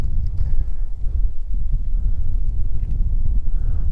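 Wind on a mountain summit in the Lake District near Blencathra, a loud, steady low roar buffeting the microphone throughout, with no talk.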